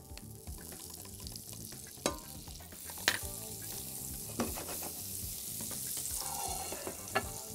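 Butter melting in a hot pan gives a steady broadband sizzle, with occasional sharp clinks from a utensil against the pan.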